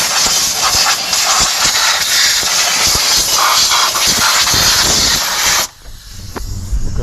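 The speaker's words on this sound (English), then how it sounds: "So I want to blow everything out, make sure there's no gunk." Compressed air blasts steadily near the intake port of a Nissan Titan engine, a loud continuous hiss that blows out debris for over five seconds, then cuts off abruptly leaving faint shuffling.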